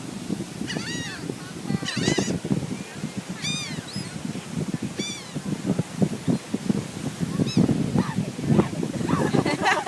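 Seagulls calling as they crowd around someone eating a sandwich, repeated shrill mewing cries near and far over constant chatter and background bustle.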